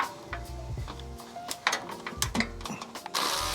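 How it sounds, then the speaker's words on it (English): Socket ratchet working on the headlight bolts of a 2015-2020 Subaru WRX STI, heard as a series of close, light mechanical clicks and ticks with a few sharper knocks from handling the tool. "we're going to remove 4 bolts holding in the headlights"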